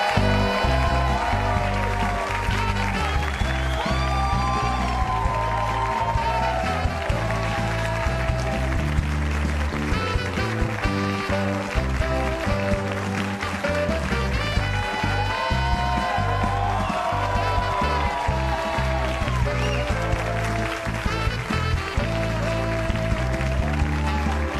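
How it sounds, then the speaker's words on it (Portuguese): A studio audience applauds over loud, continuous band music as a guest walks onto a Brazilian television talk show set, the clapping and music blending at a steady, full level. "A música e os aplausos."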